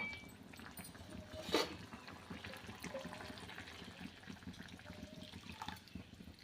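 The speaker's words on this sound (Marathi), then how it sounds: "आता यामध्ये आपण पाणी टाकूया" Water splashes into a pot of simmering cooked moong dal curry with green chillies, a brief gurgling pour followed by soft bubbling and faint kitchen sounds.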